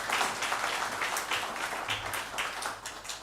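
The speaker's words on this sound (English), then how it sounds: "Members, you clap, please." Steady applause from a crowd at a regional health assembly, a dense wash of many hands clapping at once, continuing without a break.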